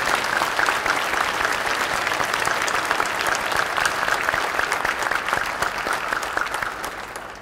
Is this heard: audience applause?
yes